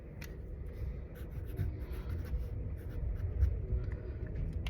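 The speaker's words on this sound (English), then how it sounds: "make sure that you write your name on your paper" A pencil or pen writes a name on paper in a children's art lesson, giving a continuous soft scratchy scribble with small strokes and taps, close and quiet with no talk.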